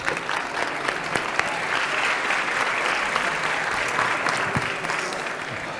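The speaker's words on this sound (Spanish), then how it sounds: "un aplauso para este plato" An audience at the Gastrónoma 2019 food event in Valencia gives sustained, dense applause for a dish of artichokes with caviar cream and black olive, steady from start to finish.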